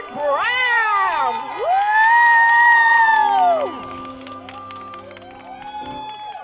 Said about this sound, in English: Keep on clapping, Jovan Brown.